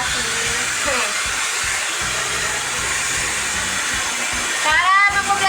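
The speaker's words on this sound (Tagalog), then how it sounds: "Blower natin yung mga langaw palayo." An electric blower runs steadily, a close, continuous airy whine and hiss used to chase flies away, swelling and wavering louder near the end; no talk over it.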